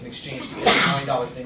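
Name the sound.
sneeze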